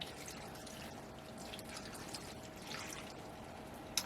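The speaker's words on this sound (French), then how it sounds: "je vais, remettre 45 centilitres d'eau" Water is poured steadily into a pot in a home kitchen during meal prep, a continuous soft splashing stream at close range, with a brief clink near the end.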